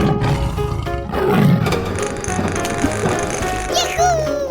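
A tiger roars in a 3D animal slide video game, a rough growling roar blended with ratcheting, clattering game effects and a rising whistle-like tone near the end, all fairly loud and without talking.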